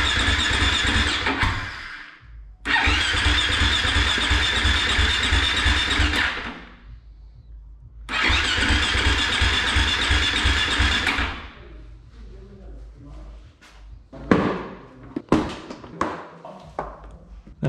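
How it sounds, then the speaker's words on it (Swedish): A 350 motorcycle's electric starter whirs in two long cranking stretches, then the engine coughs and catches in a few ragged, uneven bursts, all close by with no talking. "Ska jag testa startare?"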